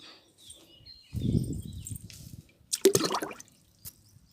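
Leftover dosa batter water is poured from a glass onto potted plants: a short, soft gurgling splash, a pause, then a second brighter burst of liquid hitting soil and leaves, close and fairly quiet.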